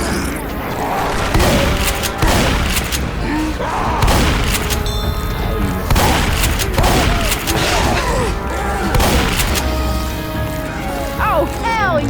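Gunfire and booms from the video game Left 4 Dead come in rapid, loud bursts of sharp shots over about twelve seconds. Voices shout over them.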